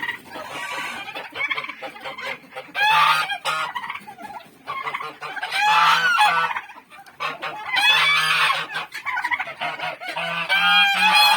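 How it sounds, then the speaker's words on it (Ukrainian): A flock of geese in a lightly snow-dusted farmyard honks and calls loudly in repeated bursts, overlapping harsh cries rising and falling with short pauses between. "Ну, а ще крикуни. Чого ви кричите?"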